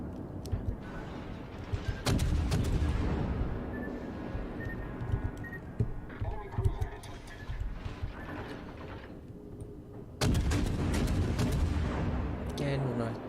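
In World of Warships, naval guns shell the shore with heavy booming salvos and rolling blasts amid mechanical clatter, loud and close, while a voice talks over the battle.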